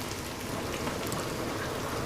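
Rain falling outdoors with a steady, moderately loud hiss and scattered drops, continuous and without speech.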